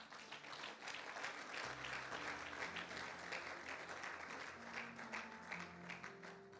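A church congregation claps together during a service, a steady, dense wash of applause that fills the room throughout, with faint voices and a few sustained musical tones underneath.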